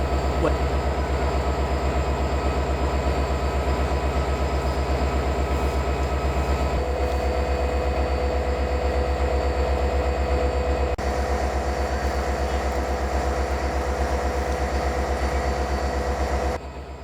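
The CPKC Holiday Train stands at Winnipeg with its locomotive idling in a loud, steady diesel rumble and hum that holds unbroken for the whole stretch, then drops slightly at the end.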